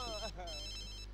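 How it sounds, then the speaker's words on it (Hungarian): Telephone ringing in The Sims video game, a bright electronic chime pattern with steady tones, heard over a low hum while a voice speaks briefly near the start. "Telefon."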